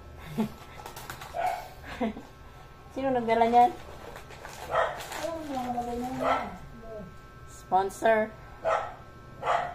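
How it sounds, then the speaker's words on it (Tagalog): A dog barks and yips in short bursts near a neighbor's house in Baguio, its calls scattered between people chatting casually close by. "Ingay-ingay naman ng aso."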